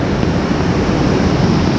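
Swollen South Carolina waterfall in spring snowmelt, its upper and lower falls pouring hard, giving a constant close roar of churning water that fills the whole moment without pause or speech.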